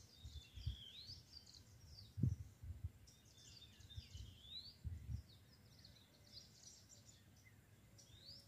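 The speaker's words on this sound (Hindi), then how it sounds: "आप पक्षियों के चहचहाट को सुनिए" Birds chirp and trill in a dense forest, several high calls scattered across the clip, fairly faint over low rustling and a few soft thumps, with no talk.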